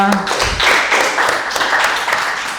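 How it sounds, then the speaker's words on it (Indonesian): A classroom of students applauds a group about to present, a brief burst of close, busy hand clapping that continues steadily throughout. "Kasih aplaus dulu kelompok 2."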